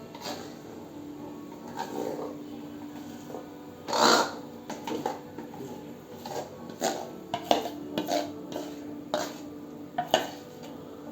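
A spoon scrapes and clinks against a pot as a mashed paste of ground jackfruit seeds and moong dal goes into melted jaggery syrup, with scattered close knocks and one louder clatter, no talking.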